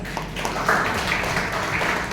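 Applause from a company readers club audience, a short burst of many hands clapping that swells briefly and holds steady, fairly close.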